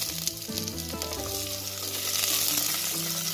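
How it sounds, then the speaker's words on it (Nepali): Onions frying in a pan with soybeans make a loud, continuous, close-up sizzle with crackles throughout and some clinking underneath, and no one speaks. "साथसाथै प्याजलाई पनि भुट्न जाँदैछु।"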